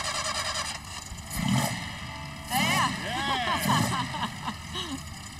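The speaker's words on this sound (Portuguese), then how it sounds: "Deu um alívio quando o motor pegou," A 1963 Porsche 356B with a 75-horsepower engine fires up and revs in a garage, with bursts of rising engine note under excited voices talking nearby.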